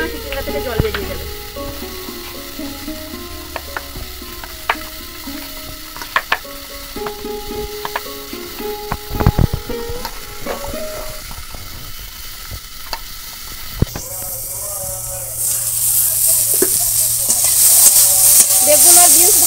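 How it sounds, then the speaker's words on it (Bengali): Eggplant and beans frying in oil in a wok, a close crackling sizzle with scattered sharp clanks from stirring, ending in a louder, hissing surge. "বেগুন আর বিনস ভাজা হয়ে গেছে"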